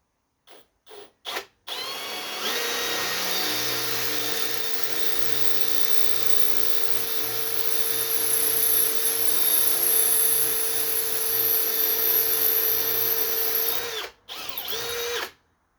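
A power drill bores holes in a Chevy engine block for a power steering pump on a 1963 Impala, a few short bursts and then a long, steady, loud whine that swells slightly before cutting off, followed by another brief burst.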